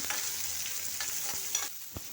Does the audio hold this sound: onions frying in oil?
yes